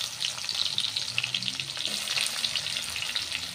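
Garlic fries in a pan for haleem, giving a steady, close hiss and crackle of sizzling oil with occasional stirring scrapes, no voices.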